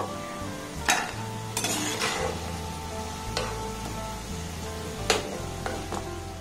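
Sweet pitha dumplings frying in hot oil in a pan, a steady close sizzle with occasional sharp clinks and scrapes of a utensil turning them.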